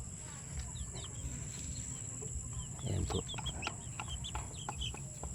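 A rooster, recovered from an upper respiratory illness, crows amid clucking and chirping birds in a busy farmyard, with a person speaking briefly over the steady background noise.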